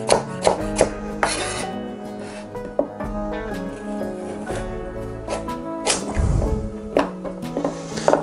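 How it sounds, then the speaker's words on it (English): Carrots roughly chopped in half with a knife on a board, a run of close, sharp cuts and thuds with scraping between them, steady and loud over several seconds. "Few carrots here. Let's go in half. Just roughly chop them."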